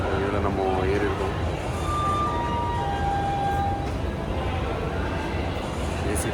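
Inside a Mumbai suburban AC train, a steady broadband rumble of the running carriage fills the whole clip, with faint tonal whines and a brief high tone drifting over it; no clear talk.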